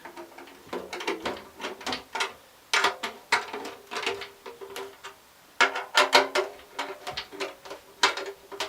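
A drum key turning the tension rods at the lugs of a new drum kit, bursts of rapid ratcheting clicks and metallic ticks repeated in rhythmic groups with short pauses, close and clear, with no talking.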